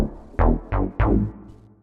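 Three notes from the Codeine Fiend synthesizer plugin struck in quick succession, each trailing off in a washy reverberant tail that fades out afterward.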